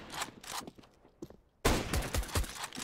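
Counter-Strike gunfire: a few sharp, close shots, then a dense burst of rapid rifle fire with clattering echoes, no talk over it.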